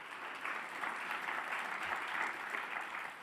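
Dense, continuous applause from a sizable audience at a union legislative political conference, holding at a steady level from start to finish.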